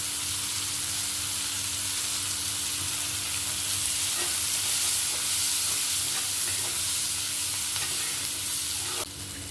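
Sliced onions frying golden in oil with turmeric for a South Indian potato curry make a continuous close sizzle, with faint stirring scrapes under a low hum, the sound dropping away at the very end.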